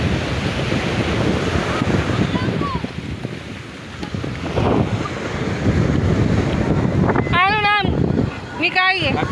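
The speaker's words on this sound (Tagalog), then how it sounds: "Mataas ang alon" High ocean waves roll and crash onto a beach, a loud continuous surf roar with gusty wind buffeting the microphone, while voices chatter and a few high-pitched shouts or squeals break through near the end.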